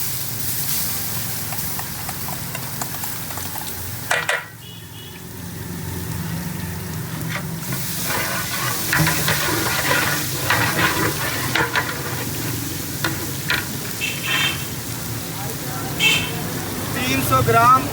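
Garlic paste sizzling in hot oil and being stirred for chicken white karahi: a steady frying hiss with scraping stir strokes throughout, a brief pause, then denser sizzling, while a person talks over it.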